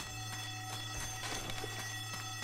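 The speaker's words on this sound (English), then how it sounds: "Someone turn off the alarm!" An alarm rings in the Left 4 Dead 2 Dead Center level, a steady electronic bell with repeated pulses over a constant low hum. It is fairly faint and sounds slightly distant, with no talk.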